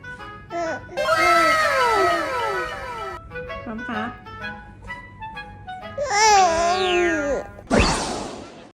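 A three-month-old baby babbles in rising and falling coos, sliding between high and low pitches in short bursts close by.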